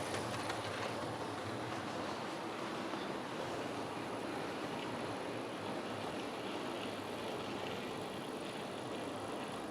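A steady, faint rumbling clatter of a model train running around a curve on cork-laid track, continuous and even throughout with no voices.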